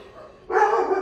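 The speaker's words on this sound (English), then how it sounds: "let me take care of the dogs barking" Dogs bark in the background of an indoor room, one sustained bark rising abruptly and holding for half a second, moderately loud against a quiet backdrop.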